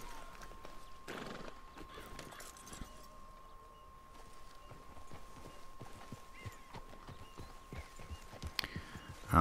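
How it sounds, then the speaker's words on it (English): A horse in the Red Dead Redemption 2 video game trots with quick rhythmic clip-clop hoofbeats and snorts, whinnying once early on, over a faint steady tone, all fairly quiet. "here's my horse."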